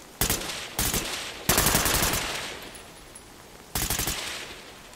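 Gunfire in the tactical shooter game Ready or Not comes in several sharp bursts of rapid shots, separated by short pauses, with a longer burst ringing out in the middle.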